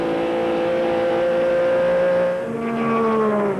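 A 1994 NASCAR Busch Grand National race car runs down the back straightaway at Darlington Raceway, its loud, sustained engine drone holding steady and then dropping in pitch as it passes, with no voices.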